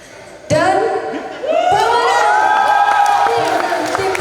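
A crowd at a youth broadcasting class awards night cheers, whoops and applauds loudly as a team is announced, excited shouting voices rising over continuous clapping.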